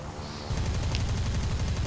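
A Yak-3P fighter in War Thunder fires a rapid, continuous machine-gun burst that starts abruptly after a brief pause and rattles on loudly to the end.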